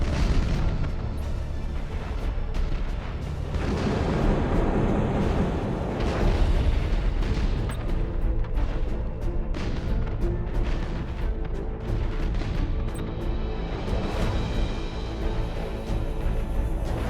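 Warship guns fire and shells explode in Battlefleet Gothic, a dense, continuous barrage of heavy booms, bursts and rumbling blasts that rolls on without pause, loud and close.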